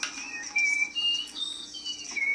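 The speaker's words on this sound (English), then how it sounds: "She's whistling through her nose right now." A Canadian woman who holds a Guinness world record whistles through her nose, giving thin, high, wavering tones that slide between pitches in several short phrases, heard alone and fairly close.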